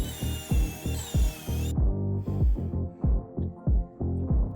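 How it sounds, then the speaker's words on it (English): A power drill bores holes into walnut wood to hold glued dowels, with repeated short bursts of whirring and grinding in a steady rhythm, loud and close, no talking. "I drilled 4 representative holes to correspond with the glued dowels."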